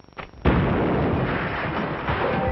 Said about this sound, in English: What's all the shooting for?